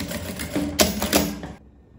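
A sewing machine runs a short stitching burst along the seam of a handmade wallet, a close mechanical rattle lasting about a second and a half before stopping into quiet.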